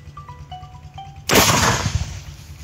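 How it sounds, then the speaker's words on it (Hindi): A single loud rifle shot during outdoor target shooting, a sharp crack with a ringing tail, preceded by faint tonal beeps and low background rumble. "निशाना दोबारा रखते हैं, अब अगला फायर करते हैं।"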